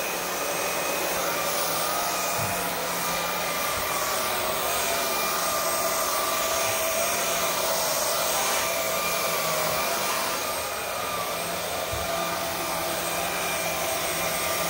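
A Vaclab X11 Pro vacuum cleaner running on high power over carpet with fake tree needles, a steady loud whirring roar that holds level throughout with no talking.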